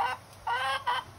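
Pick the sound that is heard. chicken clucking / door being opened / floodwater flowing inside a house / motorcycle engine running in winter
chicken clucking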